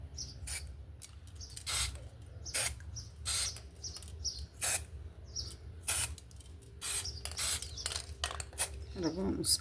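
Spray paint hisses onto a plaster vase in short, sharp bursts, repeated about a dozen times at close range over a low background hum, with a brief rustle near the end.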